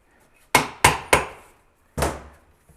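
A hammer taps a 1979 Chevy Corvette 350 transmission part in four sharp metallic strikes, three in quick succession and then one more after a pause, loud and close with no talk.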